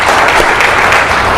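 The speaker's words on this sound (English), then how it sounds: "A big round of applause." An audience at a talk on stress breaks into dense, loud applause, steady clapping from many hands close by throughout.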